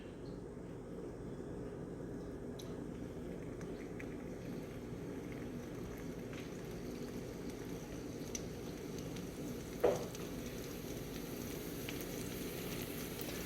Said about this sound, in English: I'm gonna add in my first double. Start frying.